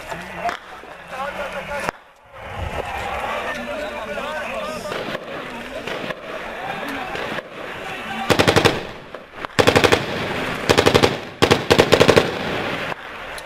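Rapid automatic gunfire bursts during fierce clashes between rebels and regime forces in Kafr Nabuda, rural Hama, Syria, cracking out in several loud volleys in the second half over continuous background noise and voices.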